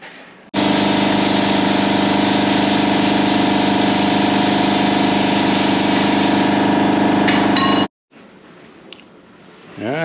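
A plasma torch cuts light holes through a thin stainless steel template, giving a loud, steady, harsh hiss with a constant buzzing drone that runs unbroken for about seven seconds, then cuts off abruptly into quieter handling noise.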